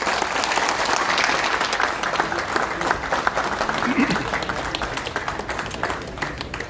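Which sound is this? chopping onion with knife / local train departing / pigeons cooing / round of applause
round of applause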